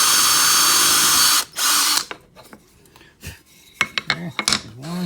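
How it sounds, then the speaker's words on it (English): A power drill whirs loudly and steadily while drilling a hole in wood, pauses for a moment, bursts again briefly, then gives way to clattering handling noises and a few nearby voices. "Go ahead and drill a hole here."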